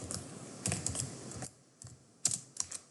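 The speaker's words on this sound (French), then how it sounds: "arrêter mon programme en utilisant le clavier, donc keyboard interrupt, simplement avec un CTRL C" Keys are pressed on a computer keyboard to stop a Raspberry Pi program, giving a few scattered, close clicks separated by quiet gaps, with no speech.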